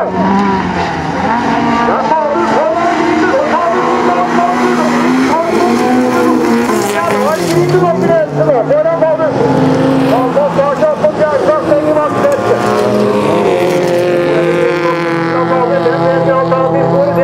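Senior-class bilcross cars race on a dirt track at Finnskogen, engines revving and whining loudly with rising and falling pitch, under a continuous excited commentary voice.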